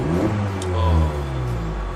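Straight-piped Honda Civic Touring exhaust giving a short, loud, raspy rev with rising and falling engine drone, heard close up without talk.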